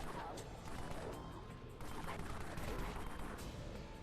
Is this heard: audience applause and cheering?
no